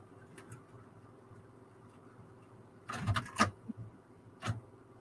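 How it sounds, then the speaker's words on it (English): A printer hums steadily at low level while an artist works with stencils, then gives a few louder mechanical clunks and whirring bursts toward the end. "printer making too much noise?"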